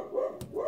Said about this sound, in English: can't have a video filming experience without the dog barking.